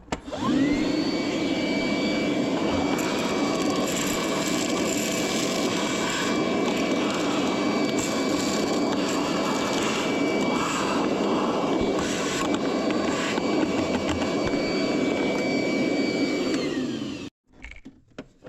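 A shop vac sucks debris out of a Toyota Corolla Hybrid during a 100K-mile service, running as a loud, steady whine from start until it shuts off and spins down near the end.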